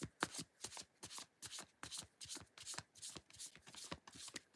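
Tarot cards are shuffled by hand in a steady, rapid series of soft, crisp riffles, close and quiet, repeating evenly throughout with no talk.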